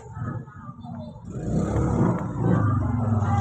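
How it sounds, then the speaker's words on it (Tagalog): A household water pump motor starts humming and whirring beside a washing machine, the drone building in strength and holding steady at close range. "Motor ng tubig."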